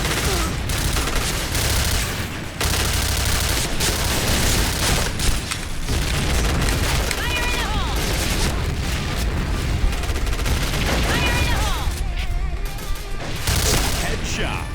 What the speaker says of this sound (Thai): กูต้องคอยระวังระเบิด